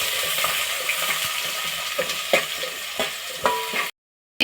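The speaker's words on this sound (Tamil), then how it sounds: "இப்போ பட்டை லவங்கம் ஏலக்காவை போட்டுக்கலாம்." Whole cinnamon, cloves and cardamom crackle and sizzle in hot oil for paneer pulao, with broadband frying hiss and a few louder pops near the end before a brief silence and a final burst.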